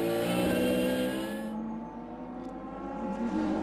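A McLaren race car at a VLN endurance race on the Nürburgring, its engine a loud, steady roar that fades slightly after about a second and a half, then swells again near the end.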